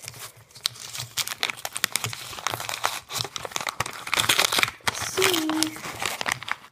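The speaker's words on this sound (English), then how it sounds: "rip this envelope open" A small paper envelope holding a mini order is torn and crinkled open up close, a string of sharp ripping and crumpling bursts that grow louder toward the end.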